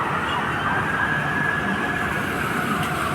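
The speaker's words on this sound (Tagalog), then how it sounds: "Nag-aalarma ang mga fire truck mga babayan." Several fire truck sirens wail continuously along a street in the Philippines, steady and fairly loud with traffic rumble beneath, no talking.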